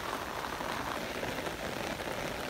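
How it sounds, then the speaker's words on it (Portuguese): Heavy rain pours steadily onto flooded streets in Manga after more than twelve hours of continuous rainfall, making a dense, unbroken hiss of drops on water and pavement. It is close and constant, with no voices. "Chove há quase uma semana em manga, com mais força desde ontem à noite, que não para, mais de 12 horas de chuva."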